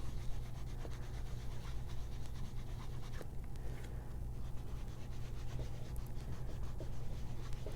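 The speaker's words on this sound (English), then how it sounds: "So I'm going to take the pad and just rub it on." An ink pad being rubbed directly onto embossed paper for a handmade spring card, soft close scratchy rubbing strokes that repeat unevenly over low steady background noise.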